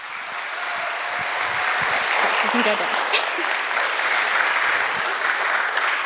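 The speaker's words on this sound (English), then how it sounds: "give her a round of applause" An audience at a summer camp church service claps in sustained applause for a girl, a dense wash of hands that swells and holds, while a voice speaks briefly over it.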